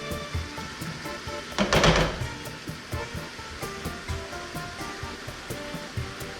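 Ground beef for a spaghetti sauce sizzles steadily in a pan, a low continuous frying hiss with one brief louder burst of crackle partway through, no voices.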